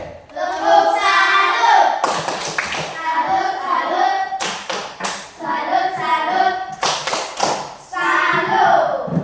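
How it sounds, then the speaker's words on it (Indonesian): A classroom of children performs a rhythmic salute clap, several sharp bursts of group hand clapping at about two-second intervals, with a teacher's and children's voices talking between them. "Ya, tepuk salut untuk Garden."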